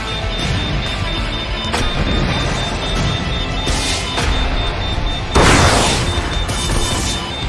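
Particle cannon fire in the video game Project Nimbus: loud, dense booming blasts and crashes in quick succession, with a sharper sweeping burst about two-thirds of the way through over a constant roar of battle.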